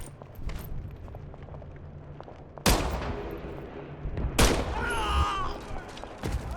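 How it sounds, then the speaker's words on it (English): Two sharp, loud pistol shots from the video game Medal of Honor: Above and Beyond ring out a couple of seconds apart, each a broadband crack with a short decaying tail, over a low ambient game rumble. "Grab the pistol and shoot."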